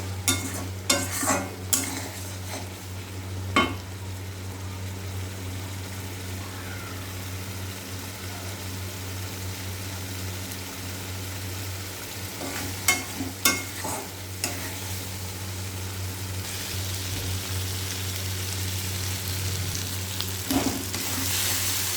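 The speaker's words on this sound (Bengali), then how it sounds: "মশলাটা কষা কষা হয়ে এলে, মশলা থেকে তেলটা ছেড়ে গেলেই পটলগুলো দিয়ে দেবো" Spice masala fries in oil in a pan, a continuous sizzle under a low steady hum, with clusters of scraping stirring strokes near the start and again later.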